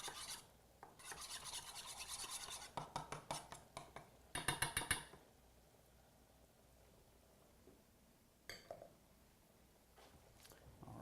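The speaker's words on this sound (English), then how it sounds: "I'm just going to use my spoon to start to kind of mix this together" A spoon stirs a thick tahini and cider vinegar salad dressing in a bowl, scraping and clinking in quick rhythmic bursts, then pausing to near silence before one more brief stir.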